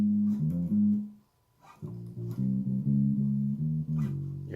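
Bass guitar playing a lick from the gospel song He's Able, deep plucked notes in a short melodic run, a brief pause, then a longer rhythmic phrase, played solo and close.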